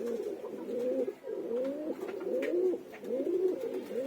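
Pigeons coo close by in a continuous run of soft, rolling, repeated calls, with no voices.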